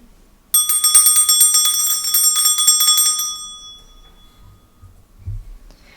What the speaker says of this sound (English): First, I'm going to clean the energy with my bell.